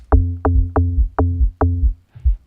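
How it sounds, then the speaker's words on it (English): A log drum in a producer's low-end plugin setup plays five deep, round, pitched hits in a steady rhythm, each with a short bright attack and a booming tail, followed by a softer sixth hit. "and then we have this log drum"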